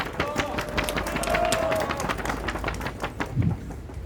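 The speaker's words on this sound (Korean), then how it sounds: "큰 박수로 환영해 주십시오." Crowd applause at an outdoor rally against medical-school quota increases, welcoming a pediatric department head to the stage; dense, steady clapping with crowd noise runs throughout, swelling slightly near the end.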